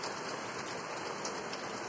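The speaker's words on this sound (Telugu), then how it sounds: "వర్షం అయితే వచ్చేసింది." Steady rain falls in a village under cloudy skies, giving a continuous soft hiss of drops. It is faint and even throughout, and nobody speaks.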